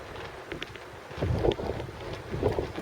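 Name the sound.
gust of wind on a pier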